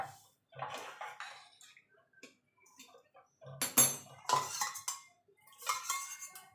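Hot water is poured into a pot of red lentil (masoor) dal cooked with tomato, giving close splashing pours in a few bursts, broken by short pauses and light clinks of metal cookware.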